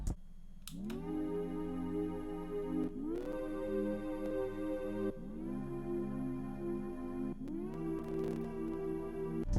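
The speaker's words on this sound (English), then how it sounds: "The next thing I added was the serum pad." A Serum synth pad in Ableton Live plays sustained, harmonically rich chords that change four times, each swelling in at a steady level with a soft attack and no voices.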